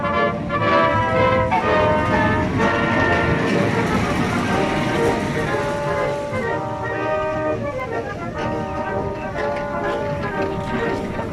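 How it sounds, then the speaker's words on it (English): Heritage electric Tram 135 at MOTAT rumbles loudly along its rails, steady grinding and whining tones rising and falling as it runs close by. "It sounds like what I call a tram."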